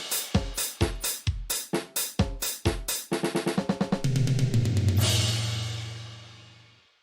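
A drum kit with its components played together: a run of loud separate hits, then a quickening roll of strikes building into a sustained crash that rings out and slowly fades, with no voices.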